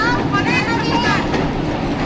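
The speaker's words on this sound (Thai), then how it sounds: "นี่เรามานั่งรถไฟกันนะครับ" A train rumbles along the rails with a steady clatter and hum, while voices talk over it nearby.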